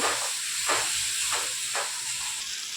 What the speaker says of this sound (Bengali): এবার মশলাটা একটু কষে নেব